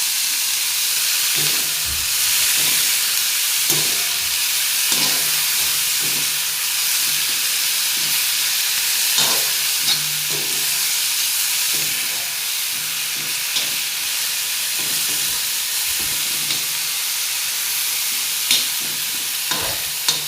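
Garlic fenugreek leaves with chilli and a pinch of salt sautéing in a pan: a steady, close frying hiss with scattered spatula scrapes and taps throughout, no voices.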